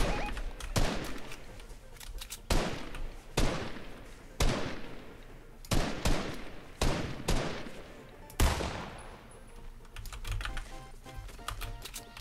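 Gunfire in the video game Fortnite: a series of sharp, punchy shots fired at uneven intervals, each cracking loudly and trailing off quickly, with a few bursts close together.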